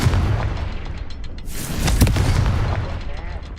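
A Confringo fire spell in Hogwarts Legacy bursts into a booming, crackling explosion, loud and close, with a sharp hit near the middle fading into a rumbling tail.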